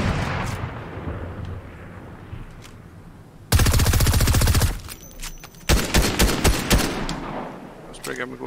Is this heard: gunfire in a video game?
yes